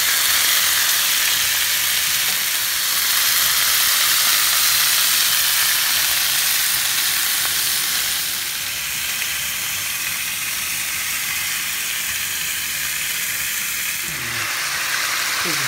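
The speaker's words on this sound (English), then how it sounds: "right now I'm browning the pork." Pork browns in a pan for chile verde, a loud, steady, hissing sizzle that carries on unbroken throughout, close up with no talking.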